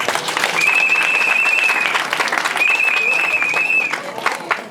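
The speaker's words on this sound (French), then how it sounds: "Ces acclamations c'est pas comme ça" Guests at a civil wedding ceremony applaud and cheer. Close, sustained clapping fills the whole stretch, and two long shrill whistle blasts cut through the crowd noise.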